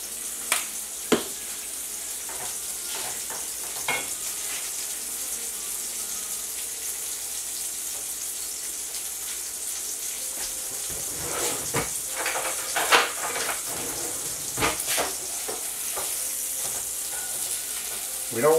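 A hamburger patty sizzles loudly in a pan, a continuous bright hiss with sharp spitting pops and a few scraping stirs toward the end, no one speaking.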